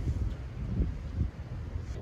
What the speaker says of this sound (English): it's pretty freaking windy out here right now